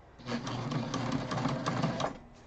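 Close by, a sewing machine runs a basting stitch along a backpack seam in one steady whirring burst of rapid needle strokes lasting about two seconds.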